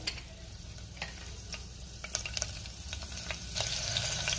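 Whole cloves, peppercorns, cinnamon, bay leaf and green chilies sizzle in hot ghee, giving a steady close frying hiss with small pops and crackles that swell near the end.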